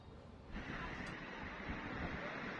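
Roaring onshore wind with surf crashing around a river-mouth harbour on Indramayu's north coast, where two-metre waves keep fishing boats moored; a dense, steady broadband rush that swells after a quieter opening, with no voices.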